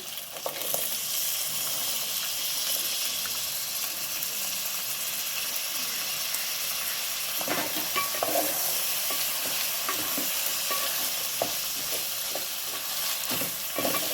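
Beans, carrots and green peas stir-frying in a pan for a vegetable biryani, a steady broadband sizzle with scraping spoon strokes clustering toward the end, close and moderately loud, no voices.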